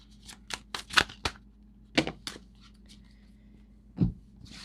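A deck of cards is shuffled for a zodiac reading, with a run of crisp riffling bursts, then a pause, a couple more flicks, and one final slap, all close and quiet.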